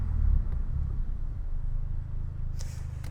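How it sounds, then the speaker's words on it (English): A VW Golf with a DSG gearbox gives a low, rumbling engine burble, ending with a brief sharp pop near the close. "when you hit the rev limiter or you hit the high RPMs, you can hear the slight burbles, and you can hear the DSG working its magic"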